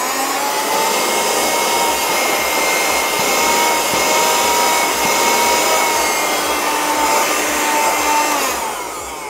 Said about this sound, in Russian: Подключили прикуриватель и можем включить сам пылесос.